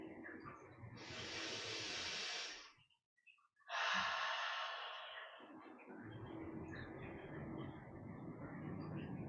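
Two long, slow breaths during a yoga practice, each a soft airy rush lasting a couple of seconds, close and quiet, with a low background hum between and after them.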